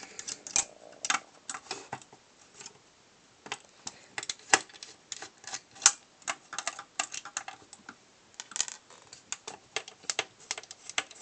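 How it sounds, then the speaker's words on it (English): Small clicks and ticks of screws being backed out around the perimeter of a Nintendo GameCube case, close-up, irregular and fairly quiet, with no talking. "There are a ton of screws all around the perimeter here, so just a matter of getting in there and removing all of them."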